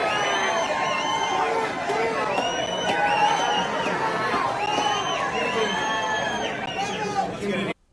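A large crowd at the Army-Navy football game cheers mildly, a steady, close wash of babble with scattered shouts and raised voices rising and falling for several seconds before cutting off abruptly.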